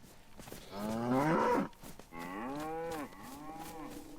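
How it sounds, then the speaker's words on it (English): Two cows mooing in the video game DayZ, several long, drawn-out low calls in succession, fairly close and clear with little else around them. "Is that a cow there?"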